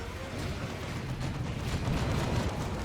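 Shotgun blasts and grenade bursts from the strategy game Dawn of War 2: Retribution churn into a dense, noisy clatter of overlapping bangs and rumbles, steady and fairly loud across a few seconds.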